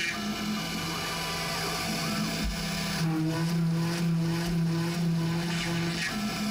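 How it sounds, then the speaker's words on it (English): Steady whining tone of a CNC router milling pockets into an acrylic lid, a constant motor hum with grinding cutter noise that shifts pitch partway through, continuous and close with no talk. "It's actually my first time CNCing acrylic"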